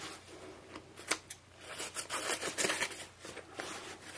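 Scissors cut open the sleeve of a leather motorcycle jacket with a run of close, crunching snips and rasps that grow louder and denser toward the middle, with no talk.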